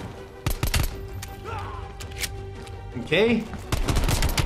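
A Type 63 rifle fires in Black Ops Cold War: a handful of sharp, close shots in quick irregular bursts, with a brief spoken word among them.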